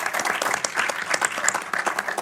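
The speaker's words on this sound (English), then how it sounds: "can we all give a round of applause to the organisers for getting WordCamps back off the ground?" A conference crowd at a WordCamp applauds the organisers, a thick, even roar of many hands clapping that holds at full strength across the whole stretch.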